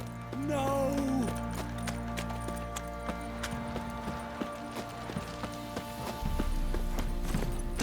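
Horse hooves clip-clop steadily in The Witcher 3 video game, a continuous rhythmic patter under game music, with a brief whinny-like tone near the start and no speech.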